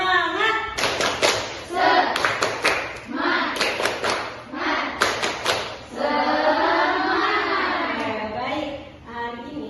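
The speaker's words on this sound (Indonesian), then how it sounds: "coba tepuk semangatnya mana dulu mana?" A class in an Indonesian population-growth lesson does a rhythmic spirit clap, bursts of sharp group hand claps in a patterned beat interleaved with voices chanting along, ending in a longer stretch of group vocal chanting.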